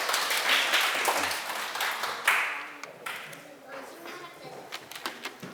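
A lecture audience applauds to welcome a speaker, a spread of hand claps that is fuller at first and then thins out into scattered claps, moderately loud in a hall.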